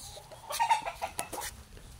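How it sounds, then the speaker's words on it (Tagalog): Several chickens cluck in short, scattered bursts on a flock-filled farm, with light rustling and movement around them. "Ang mga manok mo guys."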